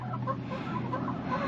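Soft, steady clucking from several chickens, a low murmuring chatter close by with no talking.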